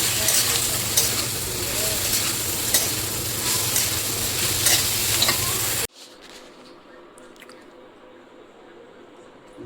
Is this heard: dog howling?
no